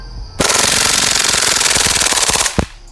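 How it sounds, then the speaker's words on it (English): Airsoft Glock 18C pistol firing a full magazine of BBs on full auto, one loud, close, continuous rapid burst of about two seconds that stops abruptly, followed by a single mechanical clack. "This is going to be the first full mag coming out of the full auto mode."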